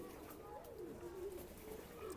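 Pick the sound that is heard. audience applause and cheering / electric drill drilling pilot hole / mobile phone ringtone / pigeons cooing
pigeons cooing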